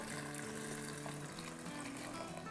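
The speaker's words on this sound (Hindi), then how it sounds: "ये 4 कप हमने पानी डाल दिया" Four cups of water pour steadily and continuously into a pot, a constant splashing wash with no voices.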